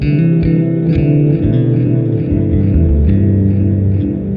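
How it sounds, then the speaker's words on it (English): A loud, sustained synth bass line through an Erica Synths Echolocator delay, reverb off, with echoing repeats trailing each note, giving a layered, pulsing delay texture, with no voices. "We can turn off the reverb and let it just be delay."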